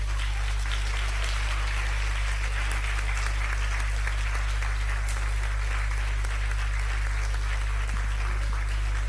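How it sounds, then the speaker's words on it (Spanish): An audience at a music recital and end-of-course graduation applauds steadily, a sustained patter of many hands clapping at moderate distance over a low, constant electrical hum. "Un aplauso."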